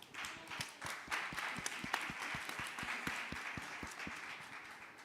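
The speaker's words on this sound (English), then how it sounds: "please welcome them with a big round of applause" An audience claps steadily, a dense patter of hands heard from a distance, with no voices over it.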